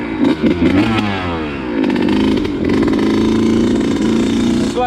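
A Suzuki RM125 two-stroke motorcycle engine runs near and loud, sputtering and popping, then settling into a raspy, uneven idle with small rises in revs.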